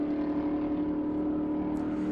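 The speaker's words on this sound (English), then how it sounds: "That's a 427 big block Chevy engine in that car, but built to the rules of Group 6." A Group 6 race car with a 427 big block Chevy engine holds a steady, loud, deep engine drone, a constant rumbling hum with no voices.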